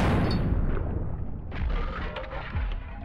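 A shotgun fired in Buckshot Roulette, with one heavy, booming blast up front that rolls off into a rumbling tail, and a few fainter thuds and clicks following close behind.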